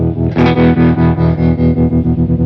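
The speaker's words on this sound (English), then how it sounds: "So we're starting with just tremolo sound" A sustained, distorted electric guitar chord through a Red Panda Radius tremolo pedal pulses rapidly in steady waves of volume, a strong tremolo throb continuing throughout.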